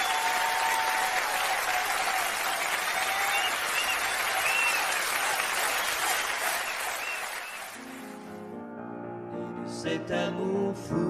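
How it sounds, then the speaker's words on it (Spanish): An audience applauds a live concert performance, dense sustained clapping for several seconds that fades as music begins near the end. "ya le estaban aplaudiendo"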